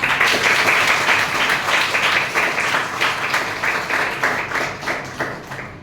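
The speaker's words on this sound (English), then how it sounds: "So make a huge round of applause for that." Audience applause at a conflict-management workshop, a fairly close group clapping in uneven bursts that start strong and gradually thin out over about six seconds, with no one speaking.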